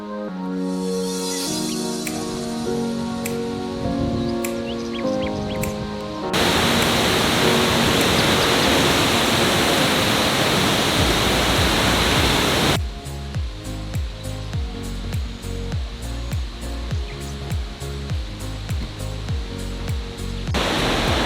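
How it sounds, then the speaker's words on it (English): Constant broadband roar of High Falls, the tallest waterfall in Minnesota, in Grand Portage State Park, heard loud and unbroken for several seconds between stretches of music. "Gonna hike to High Falls, which is actually the highest waterfall in Minnesota."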